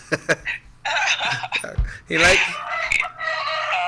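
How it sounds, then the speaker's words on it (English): A rooster crows in the background of a morning show, its calls rising out of people talking and laughing nearby. "So that I hear the rooster."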